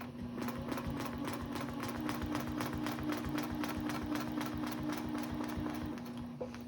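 A sewing machine stitches quilted clamshells in a steady, rapid mechanical chatter with a constant motor hum underneath, running without a break.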